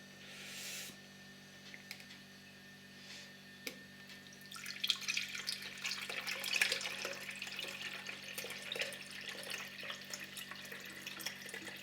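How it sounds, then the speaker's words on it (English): Pork roast juices poured into a gravy separator jug with a rubber stopper in the spout, a steady soft liquid trickle and splash building after a few seconds and continuing, with faint kitchen clinks. "you need to put this rubber thing in the spout before you pour the juices in"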